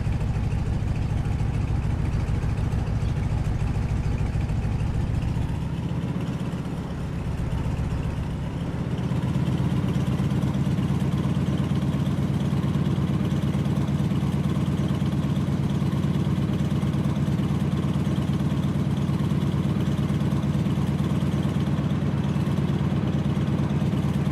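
Stearman biplane in Microsoft Flight idling steadily while taxiing, a continuous low radial-engine drone with a brief dip in level partway through, then holding constant and loud without talk.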